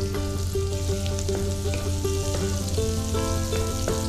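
Onion and green chillies frying in a pan for a ridge gourd and garlic curry, a loud continuous sizzle with scraping stirs throughout, close up and without talk.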